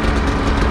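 A new snowmobile engine running steadily at a low idle, close and loud, a constant droning rumble with no breaks.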